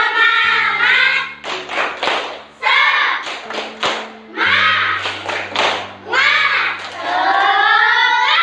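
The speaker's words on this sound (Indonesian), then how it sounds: "Mari kita lakukan tepuk semangat bersama-sama" A group of people standing together performing the rhythmic 'tepuk semangat' clapping chant, bursts of loud patterned claps in quick sets alternating with chanted voices, close and lively, with a low steady hum running beneath.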